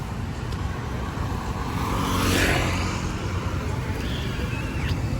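Busy Ho Chi Minh City street with dense motorbike traffic, a steady roar of engines and road noise that swells briefly midway, a faint horn-like whine near the end, with a voice talking over it.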